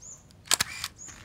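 A Canon EOS 3000 quartz date film camera fires its shutter at 1/250 second, giving a sharp double mechanical snap with a short motor whir after it. The sound is close and clear, set between quiet pauses.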